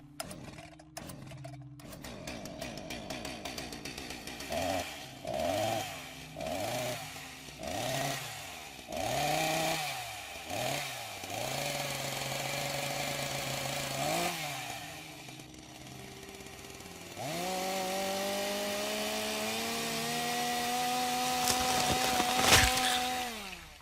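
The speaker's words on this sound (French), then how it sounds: "La tronçonneuse en elle-même?" A chainsaw runs in repeated revving bursts, the engine rising and falling in pitch several times before settling into a sustained high-pitched whine that grows louder toward the end, with no talking.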